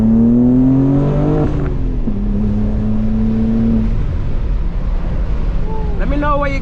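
A 2022 BMW M4 G82 with a six-speed manual, aftermarket downpipe, midpipe and intake, droning loudly under load, its engine note holding steady, dropping through quick shifts, then climbing again amid wind rush.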